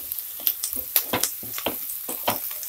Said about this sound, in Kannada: ಈಗ ಕ್ಯಾಪ್ಸಿಕಂ ಹಾಕ್ತಾ ಇದೀನಿ ನೋಡಿ ಕ್ಯಾಪ್ಸಿಕಂ ಹಾಕಿದ ಮೇಲೆ 1 ನಿಮಿಷ ಚೆನ್ನಾಗಿ ಮಿಕ್ಸ್ ಮಾಡ್ಕೊಂಡು 1 ನಿಮಿಷ ಫ್ರೈ ಮಾಡ್ಕೊಬೇಕು